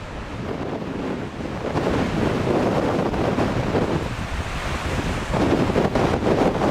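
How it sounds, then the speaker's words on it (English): Hurricane Melissa's surf crashing on the Jamaican shore under howling wind, a loud, continuous roar of breaking waves and heavy wind buffeting, with no voices. "Winds are howling, waves are crashing into the shore"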